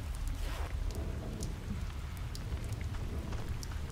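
Steady rainstorm in the video game Oxenfree, a dense even hiss of falling rain with a low rumbling undertone, continuous and fairly loud throughout.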